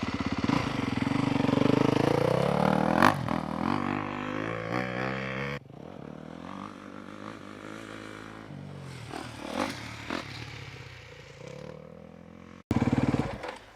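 Motorcycle ridden around a motocross track in fourth gear, its engine note loud and close, rising and falling as it revs and shifts, with brief scraping and clattering along the way.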